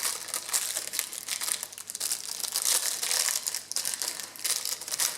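Steady, loud crinkling and crumpling of a plastic package of washi tape being worked open by hand, continuous rustle with small sharp crackles throughout.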